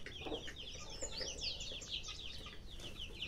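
Newly hatched Sebright chicks left without their hen peep in rapid high chirps, many overlapping calls repeating close by throughout.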